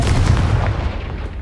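A Confringo spell blast going off in Hogwarts Legacy, a single heavy, close explosion with a deep booming body that rumbles and fades over a second or so.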